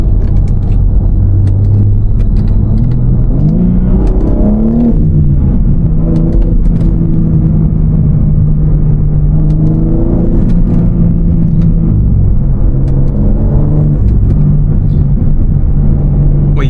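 A BMW M3 Competition engine pulling hard on a street drive, loud in-cabin engine roar rising and falling through repeated acceleration runs, steady and close for the whole stretch.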